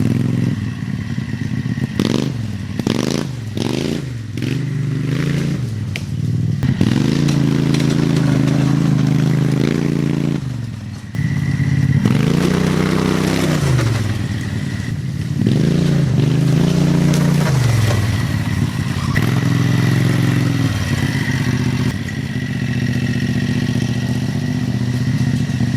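A 670cc V-twin engine on a Chinese dune buggy runs loud and close for the whole stretch, revving up and down in repeated swells with a rough, throbbing note and some clatter.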